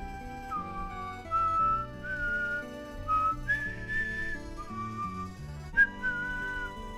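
A man whistles an Old West–style showdown tune alone, close and clear, with sliding, sustained notes rising and falling in a slow melodic phrase over quiet background.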